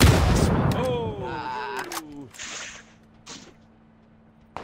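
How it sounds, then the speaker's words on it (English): Gunfire in the console game PUBG, a loud sniper shot cracking out amid a burst of shots at the start, followed by a few sharper later reports as a player talks over it. "Where did that snipe come from?"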